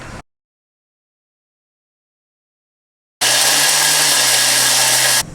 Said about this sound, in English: I've just mixed that for 10 seconds on speed 9